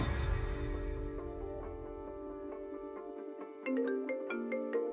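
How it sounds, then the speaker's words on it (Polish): A phone rings with a melodic electronic ringtone, a repeating pattern of bright tones that grows sharper and more insistent toward the end, playing alone without talk. "Dzwoni telefon."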